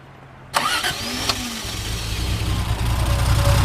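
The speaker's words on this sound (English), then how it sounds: "We'll go ahead and fire this one up for you." A 1972 Triumph TR6 roadster cranks briefly and fires up at about half a second, then settles into a steady, loud, close idle with a slight rise in revs toward the end.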